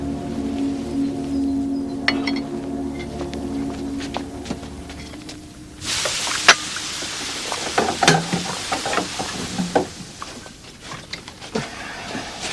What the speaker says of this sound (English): Pots are not meant to be taken straight from the fire and plunged into cold water.